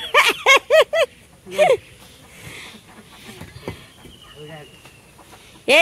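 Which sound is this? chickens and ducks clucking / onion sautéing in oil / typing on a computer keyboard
chickens and ducks clucking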